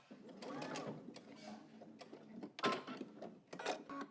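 A home sewing machine back stitching fabric for a Simplicity pattern garment, heard as a close, steady mechanical whir in short runs with a brief pause, and a voice talking over parts of it.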